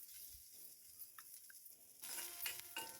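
Quiet, steady sizzling of coconut, garlic and ginger sautéing in a pan, with occasional stirring scrapes and a brief louder burst of crackle toward the end.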